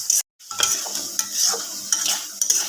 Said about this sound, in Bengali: এবার এই মশলাটা দিয়ে ভালোভাবে মেশানো হচ্ছে যতক্ষণ না তেল ছেড়ে আসে